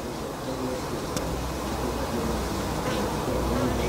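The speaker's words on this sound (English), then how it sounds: "So it turned into a video of bees doing the bee dance." Honeybees in an observation hive give a steady, dense buzzing drone that fills the whole stretch at an even level, close and continuous with no voices.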